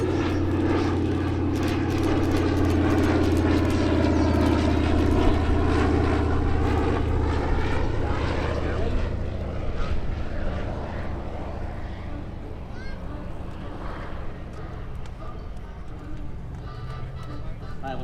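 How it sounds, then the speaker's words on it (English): A formation of six WWII fighter aircraft flies past at an air show with a crosswind, propeller engines droning loudly and steadily before fading gradually as they pass into the distance. "Dissimilar formation, 6 beautiful aircraft."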